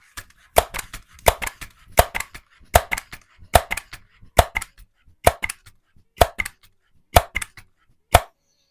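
A Daisy Powerline 901 air rifle is pumped with a steady series of about a dozen crisp clacking strokes, each a sharp double click at an even rhythm, close and clear against silence.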